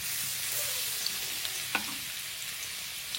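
Grated garlic frying in oil in a pan for vegetable fried rice gives a steady, even sizzle, with a few soft stirring clicks near the middle. No one speaks.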